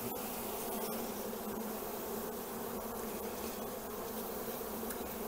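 Dense, continuous buzzing of a honeybee colony in an open hive during a queen change, many bees humming close by with no voices.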